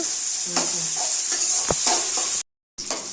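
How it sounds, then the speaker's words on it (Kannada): Chopped onions frying in oil in a pan for a drumstick-leaf dish, a steady close sizzle with scraping stirs over it and a brief dropout near the end. "ರೆಡ್ಡಾಗೋವರೆಗೂ ಈರುಳ್ಳಿಯನ್ನು ಚೆನ್ನಾಗಿ ಎಣ್ಣೆಯಲ್ಲಿ ಹುರಿದುಕೊಂಡು"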